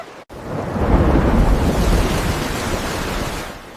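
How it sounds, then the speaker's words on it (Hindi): A steady, dense roar of heavy rain builds and holds, with deep rumbling underneath like distant thunder. No one speaks. "फिर से तेज बारिश शुरू हो गई"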